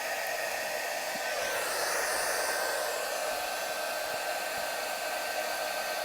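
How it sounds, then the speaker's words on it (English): A heat gun blows steadily and loudly on a glitter tumbler, giving a continuous close-up rushing hiss that holds without a break from start to finish. "You have the ability to control that with your heat gun."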